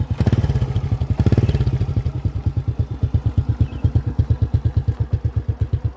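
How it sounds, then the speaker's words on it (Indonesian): Motorcycle exhaust idling up close at the tailpipe, a steady rapid chugging pulse with crackly, clattering beats, louder for the first second and a half, then settling into an even, slightly uneven rhythm with no talking. "Kemudian ini ada di sumber knalpot,"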